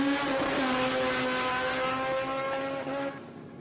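A drag racing car at Willowbank Raceway, heard as a loud, sustained high-revving engine note with a steady harmonic whine that holds for about three seconds before cutting off.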